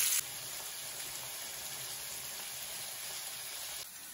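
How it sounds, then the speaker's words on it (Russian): Meat for Georgian ojakhuri frying in hot oil in a pan: a steady, loud, close hiss of sizzling that holds unbroken throughout. "Мясо жарится 15 минут на одной стороне и 15 минут на другой стороне."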